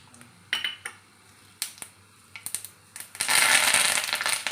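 A few sharp clinks of utensils, then a sudden burst of loud crackling as mustard seeds and sesame seeds splutter and pop in hot oil.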